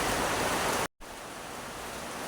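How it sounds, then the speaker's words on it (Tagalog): Heavy rain pours in a dense, continuous hiss outdoors during a storm, loud and steady, briefly cutting out before resuming slightly softer. "medyo malakas yung ulan"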